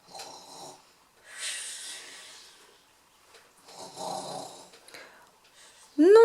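An actor in a stage play of Little Red Riding Hood imitates the wolf snoring, giving several slow, breathy snorts and rasping inhales separated by pauses, ending in a louder vocal groan.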